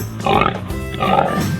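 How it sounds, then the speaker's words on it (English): A cartoon pig gives two short, close oinks, separated by a brief pause. "Pig."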